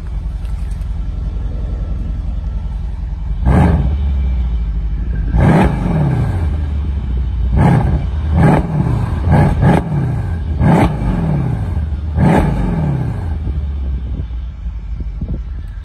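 A Mercedes E63 S AMG engine idles with a deep rumble and is blipped about seven times, each sharp loud rev rising and quickly falling back, heard close with no talking.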